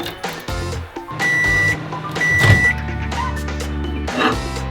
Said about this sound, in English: We open up some jars, and put them into the microwave.